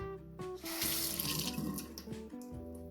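A kitchen flick mixer tap runs cold water into a sink, a close, steady gushing splash with a faint whining tone through the pipes, heard alone.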